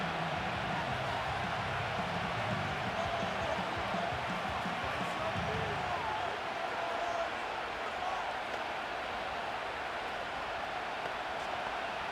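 Stadium crowd roar from the Madden 25 football video game, a Saints at Packers Monday Night game, as a steady broad wash of crowd noise filling the whole stretch with low rumble early on and no speech.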